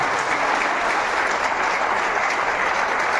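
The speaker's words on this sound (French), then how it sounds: "On peut applaudir parce qu'ils sont derrière la scène tout autant." Audience at a Meknès international animation film festival ceremony applauding, a dense, steady wash of many hands clapping at once, sustained and even throughout without talk.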